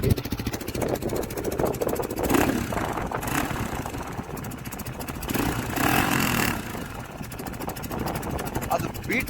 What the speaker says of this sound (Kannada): ಗಾಡಿ ಸ್ಟಾರ್ಟ್ ಮಾಡ್ತೀನಿ